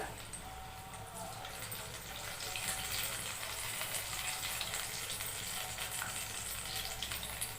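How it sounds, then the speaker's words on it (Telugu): Sweet bellam boorelu dumplings made with wheat flour and jaggery frying in oil, giving a dense, continuous close sizzle that grows slightly louder partway through, with no talk. "ఇలాగా వేయిస్తాం అన్నమాట చూడండి ఇలా వేగుతాయి"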